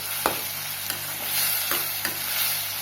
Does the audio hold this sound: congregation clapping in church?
no